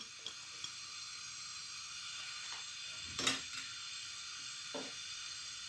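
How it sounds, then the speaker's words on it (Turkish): Soft, steady sizzling of chopped onions and garlic frying in a pot, quiet, with a few clinks and a brief scrape of stirring partway through. "Şimdi güzelce soğanlarımız, sarımsaklarımız şöyle bir kavrulsun."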